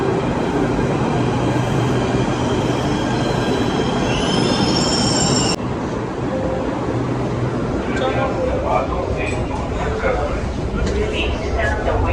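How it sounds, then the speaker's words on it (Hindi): A Delhi metro train rumbles loudly throughout, with squealing wheels and a rising whine early on, then steady rattling motion noise. "फाइनली मैंने मेट्रो ले ली है"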